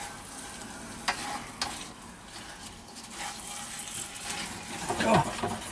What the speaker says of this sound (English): Because we've put that gram flour in, they're not breaking up as we stir them round